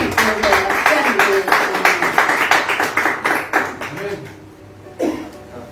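Church congregation applauding, a rhythmic round of many hands clapping close and loud for several seconds, then fading out, with a voice speaking over it.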